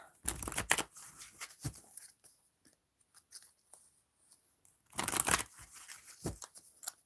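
A deck of playing cards being shuffled by hand in two short bursts of riffling, close and fairly quiet, with scattered soft handling noises between them and no talking.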